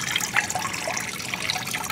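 Water from a small 50 gallon per hour aquaponics pump runs through bendable PVC tubing into a grow bed, a steady close trickle and splash that carries on without a break.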